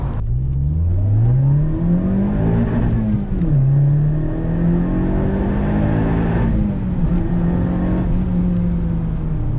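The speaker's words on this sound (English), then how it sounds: "that's the main thing that makes the Yaris's engine so addictive to just rev out" A Toyota Yaris engine revs up and down in long, rising and falling sweeps, loud and close, with a high supercharger whine riding on top.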